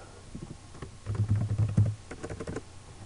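Code being typed on a computer keyboard: uneven bursts of close key clicks and taps, a dense run in the middle with a few louder thumps, then scattered keystrokes, with no voices.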